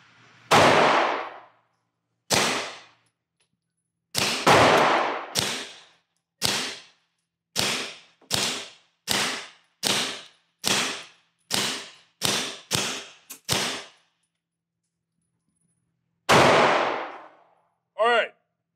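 A Beretta M9A4 pistol fitted with a Silencer Co. Omega 9k suppressor fires around fifteen sharp muffled shots, first spaced apart and then in a quicker string, each a short close crack with brief decay and silence between.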